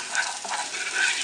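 Garlic, onions and parsley stirred in hot olive oil, a brief steady sizzle with soft scraping movement, close and moderately loud, no talk.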